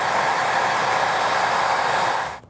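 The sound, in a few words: hair dryer drying paint on DIY dragon egg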